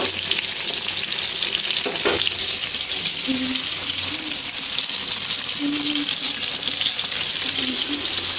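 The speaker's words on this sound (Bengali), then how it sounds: "মশলাগুলো কষানো হোক, আর এদিকে মাছটা উল্টিয়ে দিয়েছি।" Fish and spices fry in a pan with a steady, close, bright sizzling hiss that runs the whole time, with a few faint clinks and brief tonal bits underneath and no talking.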